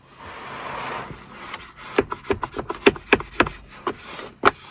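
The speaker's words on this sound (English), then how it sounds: "So we're sliding the squeegee." A squeegee works vinyl wrap over a 2021 Tesla Model 3 / Model Y center console, making a soft rub and then a run of sharp, uneven squeaks and scrapes up close.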